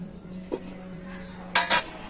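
Metal lid set onto a cooking pot of simmering curry: a light clink, then two sharp metallic clatters near the end, with a faint low hum underneath.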